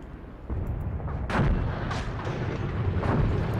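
A tank cannon fires in a World War II game battle at El Guettar, Tunisia: a heavy boom with a sharp crack at about one and a half seconds, then further booming reports and rumbling battle noise throughout.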